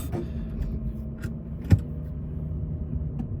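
A BMW M4 F82 with a DCT gearbox pulls away, with a low, quiet engine rumble inside the cabin and a single dull thud as the gearbox jolts partway through.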